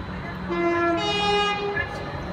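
A two-tone horn sounds from a British Rail Class 390 electric train passing through Milton Keynes Central station, with two sustained tonal blasts in sequence over low rumble and platform ambience.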